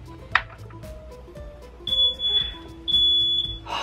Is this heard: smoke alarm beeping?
yes